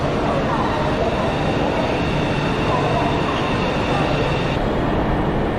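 Rumble and steady rushing noise inside a high-speed train in China travelling from Shanghai to Hangzhou, loud and continuous, with a faint high whine throughout.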